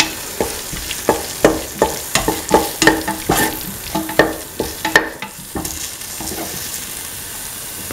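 Salt is stirred into a winter melon (ash gourd), tomato and green pea stew in a pan. A close, rhythmic series of about a dozen scraping taps sounds over a soft sizzle, with no voices.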